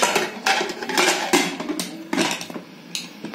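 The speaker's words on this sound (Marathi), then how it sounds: "कुकरचं झाकण लावते" The metal lid of a pressure cooker holding dal, peanuts and coconut is fitted and locked on, giving a run of sharp, close clanks and scrapes with short pauses between them.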